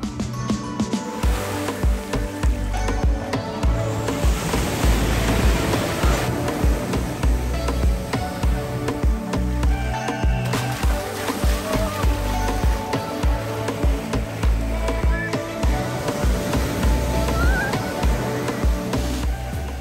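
Ocean waves crash onto Playa de las Americas beach in Tenerife, a loud, continuous roar of surf with repeated surges of broken water and wind noise.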